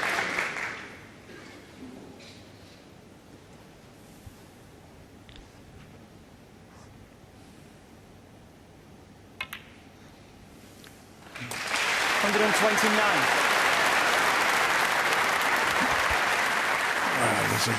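Big crowd at the Masters snooker at Alexandra Palace bursts into loud, sustained applause after a long stretch of quiet murmur, a roar of clapping filling the hall to the end.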